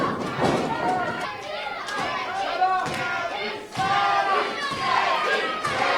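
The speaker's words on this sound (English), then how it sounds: "you listen to this crowd here starting to really rally behind the FEW champion" A live wrestling crowd cheers and rallies behind the FEW champion with loud chanting and shouting from many voices, sustained and echoing, with a few thuds mixed in.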